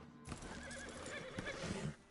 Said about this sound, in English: Send your horse somewhere safe.